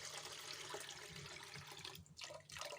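Fermented millet juice for koko being drained off the thickened layer beneath, a faint, continuous watery trickle and splash with a couple of brief pauses.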